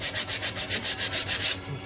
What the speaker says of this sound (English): whenever you're doing the sanding, you get these lines, radial lines going around with the actual rotation of the lathe